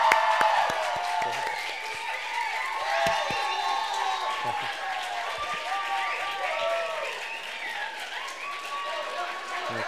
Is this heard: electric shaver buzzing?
no